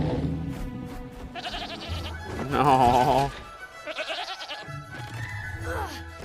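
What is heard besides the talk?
sheep bleating in animated movie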